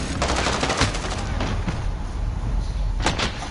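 Gunfire in a PS4 shooter game, repeated sharp shots and bursts crackling over a dense noisy battle backdrop, with a couple of louder reports near the end.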